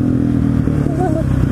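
A supermoto motorcycle engine idles loud and close, with a steady low rumble and some mechanical clatter. A brief rise in pitch comes partway through.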